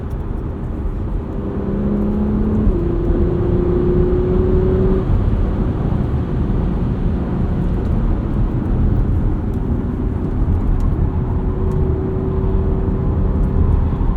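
A 2022 Porsche Macan S SUV cruising with a steady, loud low engine drone and road rumble throughout, a couple of brief rising tonal shifts early on, heard from inside the cabin with no talking.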